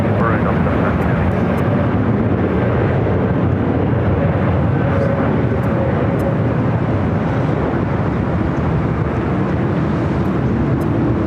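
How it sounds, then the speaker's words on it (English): A Delta Airbus A350 heavy jet lands on runway 24 right at Los Angeles International Airport, its engines a loud, continuous broadband roar held steady throughout, with wind buffeting the microphone and a voice talking over it. "airport Airbus 350, runway 24 right, clear to land"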